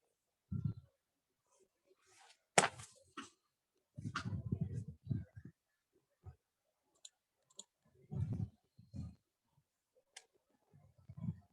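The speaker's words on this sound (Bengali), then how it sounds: "আমি ততক্ষণে পরবর্তী পৃষ্ঠার একটা লাইন লিখে ফেলি।" Pen strokes writing a line of text on a page, heard as short scratchy clicks and taps in scattered bursts, close and fairly faint, with quiet pauses between them and no talking.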